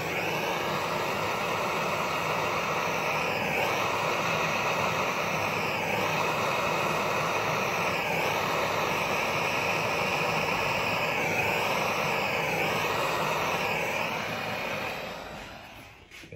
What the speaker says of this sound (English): gently heat it up with this torch